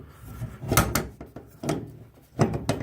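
The stuck fuel door on a 1967 Mustang clunks and thumps in three close, hollow bursts, each a quick double knock of metal and body panel.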